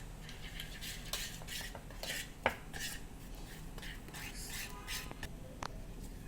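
Spoon scraping and clinking against a bowl as a thick beetroot juice and rice flour face pack is stirred, soft repeated taps and scrapes close by against a steady background hiss.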